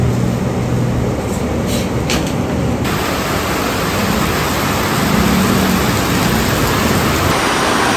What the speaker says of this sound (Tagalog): Grabe po ang lakas ng ulan